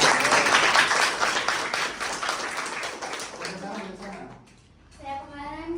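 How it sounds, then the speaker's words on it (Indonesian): Classroom applause from students during a school lesson: brisk group clapping for about three seconds that fades out, followed by children's voices talking. "Oh, tepuk tangan semuanya."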